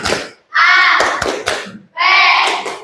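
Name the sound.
class clapping in a 'tepuk siap' clap cheer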